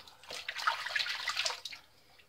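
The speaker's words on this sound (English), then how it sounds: "So now, let me rinse my face off." Tap water splashing as a face is rinsed at a sink after a wet shave, a close, soft irregular burst of splashes and dribbles lasting about two seconds, fading at the end.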